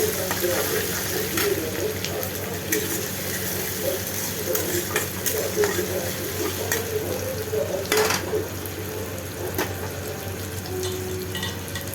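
Curry leaves and chopped onion frying in mustard oil make a dense, fairly loud sizzle, with spatula scrapes and pan knocks scattered throughout.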